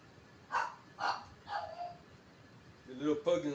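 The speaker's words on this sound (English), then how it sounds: "The little pug gonna start barking next door." A small pug barks next door in a few separate, fairly faint yips, three spaced close together, then a short pause before a quick final pair.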